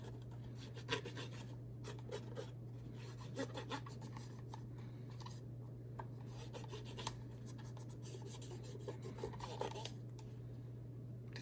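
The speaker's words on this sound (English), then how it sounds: "So I'm gonna turn around, wipe off the excess, and go for the other side." Soft, steady rubbing and wiping on a retro game cartridge as excess cleaner is removed, a continuous close rasping texture with small scattered clicks over a low constant hum.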